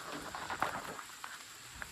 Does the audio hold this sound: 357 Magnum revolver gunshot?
no